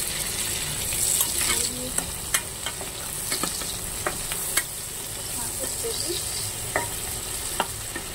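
Onion and whole garlic cloves frying in oil, a soft continuous sizzle broken by sharp clicks and taps of stirring at irregular intervals.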